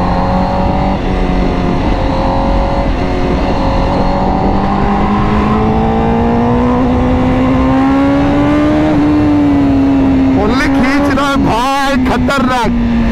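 A Honda CBR1000RR-R superbike runs at speed close beside cars, its engine holding a loud, steady high whine that climbs gradually, with wind buffeting and sharp bursts of noise near the end.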